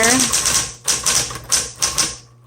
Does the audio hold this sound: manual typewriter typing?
yes